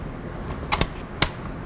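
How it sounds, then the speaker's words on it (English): Dry firing an Enfield No4 Mk1 rifle in .303 British with a two-stage trigger: a couple of sharp, close mechanical clicks and a snap over a quiet room, with no shot. "For this, I'm actually gonna dry fire"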